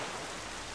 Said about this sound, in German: wenn jetzt hier alles so in Strömen regnet